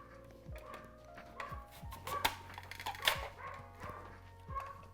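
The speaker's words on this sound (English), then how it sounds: "She's barking at the door." A dog barks at the front door in a home with short, repeated barks and yips, some sharper than others, mixed with scattered household clatter and set at a moderate distance.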